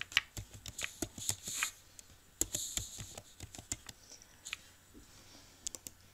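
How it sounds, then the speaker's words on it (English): Keyboard typing while entering a name into a spreadsheet cell, heard as irregular bursts of crisp clicks and key taps, close and fairly quiet, with short pauses between runs and no talking. "if I click on the cell below here and I type Mickey Mouse"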